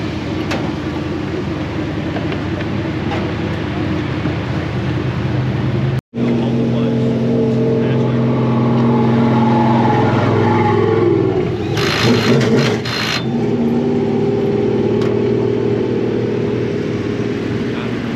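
An open small block race car drones loudly around the track lap after lap, a steady engine roar broken by a brief cutout, with voices talking over it.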